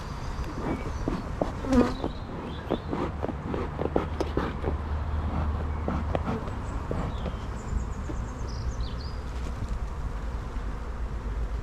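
Honeybees buzz steadily around an opened beehive during a hive inspection, a dense continuous hum of many insects close by, with a few louder passes near the microphone and no talking.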